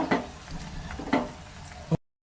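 Curry leaves, henna leaves and fenugreek seeds frying in oil for a homemade hair oil, giving a soft steady sizzle broken by a few sharp clinks of a utensil stirring the pan.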